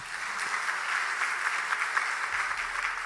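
A church congregation at a midweek evening service claps in a steady, even round of applause, moderately loud and continuous for a few seconds with no talking over it.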